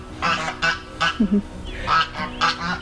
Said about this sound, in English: The geese are very protective of their chicks.